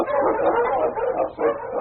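A husky sled dog, an Eskimo lead dog, barks in an old-time radio drama; a few quick, muffled yips and woofs in succession on thin, band-limited broadcast audio.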